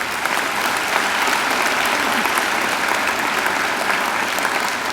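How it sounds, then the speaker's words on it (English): A large graduation ceremony audience applauds steadily and densely, with dense clapping from many hands continuing loud and even throughout. "I think they deserve a great round of applause too."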